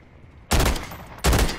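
Two loud, close bursts of gunfire from the Call of Duty video game, each a sharp onset followed by roughly a fraction of a second of sustained blasts, separated by a brief lull.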